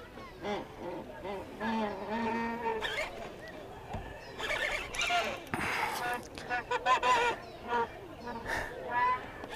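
Geese honk repeatedly in overlapping calls at moderate distance at a public paddle boating pond, mixed with people talking nearby throughout.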